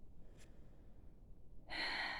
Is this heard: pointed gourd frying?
no